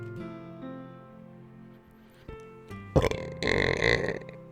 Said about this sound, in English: That burp was in there in the chest for like nearly an hour.